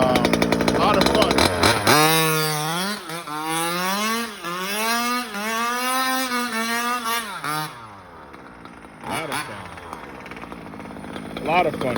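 A tuned Rovan gas-powered RC car engine revs up and down in rising and falling whines over several seconds, loud and close, then drops away and surges briefly again near the end.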